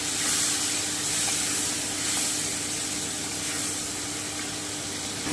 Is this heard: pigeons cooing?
no